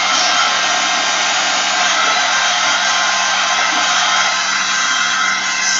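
A hair dryer blows steadily and close over napkins glued into an art journal, an unbroken loud whoosh with no pauses.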